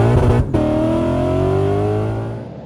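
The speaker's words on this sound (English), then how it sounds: "The car sounds healthy." Supercharged Lexus RC F on a test drive, its engine droning loudly and steadily close by with a brief gap and a rising tone as it pulls, then easing slightly toward the end.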